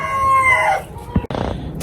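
An Ayam Cemani chicken on a rooftop poultry setup in Faisalabad gives a loud, close, drawn-out call lasting under a second, followed by a few short throaty clucks.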